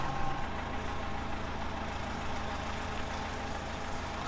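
A vehicle engine idling steadily while a bread van frame is backed into place for an engine swap, a constant low rumble with a faint tonal hum, alone and unbroken.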